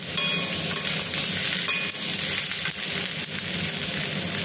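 Potatoes dropped into hot oil in a pan sizzle loudly and continuously, a dense close crackle that stays strong and even throughout without talk.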